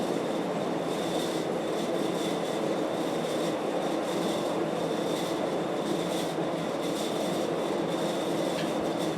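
A Casablanca Delta Seasons ceiling fan running on high speed, with worn bearings, producing a steady, continuous whooshing rumble with a faint hum throughout, close and even in level.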